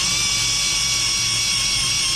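Diamond grinding wheel sharpening a carbide-tipped saw blade, a steady high whine with constant tonal ringing, close and continuous.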